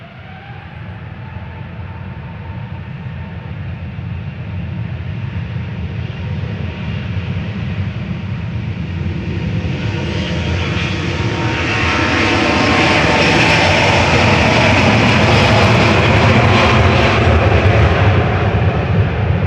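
A Singapore Airlines Airbus A350-900 jet departs Manchester Airport for Singapore, its engine roar building steadily from a low rumble to a loud, hissing peak over about twenty seconds.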